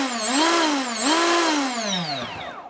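Volantex V792-4 70cm brushless RC boat at full throttle, a loud, close, high-pitched motor whine that rises and falls in pitch twice, then drops away sharply as the boat speeds off.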